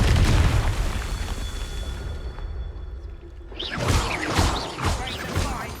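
A Confringo fire spell blasts in the Hogwarts Legacy video game: a sustained roaring, crackling burst dominates the opening seconds, then a brief lull gives way to swooshing spell effects and impacts, with no speech.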